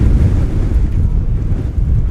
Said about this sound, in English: Wind 25 miles an hour, gusting to 37.